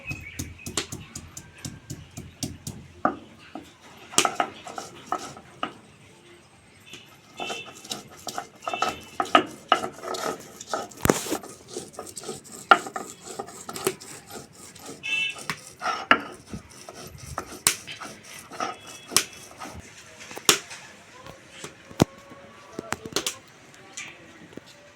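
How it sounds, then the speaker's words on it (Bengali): Two small pieces of ginger ground to a paste for a dal made with jackfruit seeds, heard as a busy run of close scraping, knocking and clattering strokes lasting the whole stretch, with faint talk here and there. "তো এই আদা 2 টুকরি বেটে নেব।"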